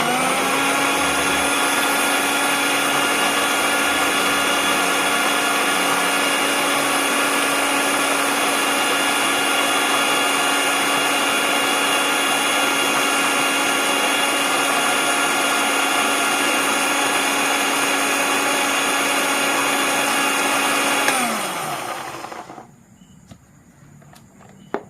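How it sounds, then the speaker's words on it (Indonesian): An electric blender whirs loudly and steadily while grinding garlic with water, a constant high motor whine that holds for about twenty seconds before winding down and stopping, leaving near silence. "setelah itu kita blender, kita haluskan betul-betul halus ya."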